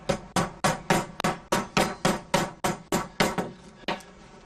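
Steel hammer blows on the spine of a book's sewn sections, rounding it in bookbinding: about a dozen sharp, evenly paced knocks, each with a short ringing decay, close and alone.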